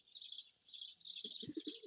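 A feather-footed pigeon coos softly in a few low rolling notes near the end, and high chirps sound on and off throughout the short, quiet stretch.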